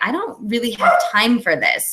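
A pet dog barks and yips repeatedly in short rapid bursts close by, mixed in with a person talking over it.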